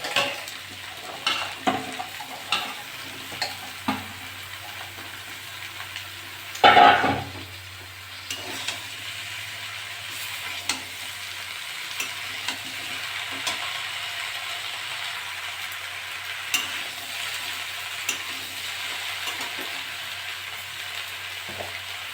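Malabar spinach stir-fried in a pan with crab and prawn, a spatula scraping and clattering in repeated bursts over soft sizzling, with one louder clatter partway through and quieter stirring afterward.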